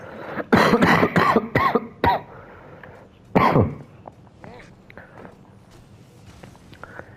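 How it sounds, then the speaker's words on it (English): A sick man gives a run of harsh, rapid coughs near the mic, then one more cough after a pause, followed by quiet rustling. "sorry for coughing"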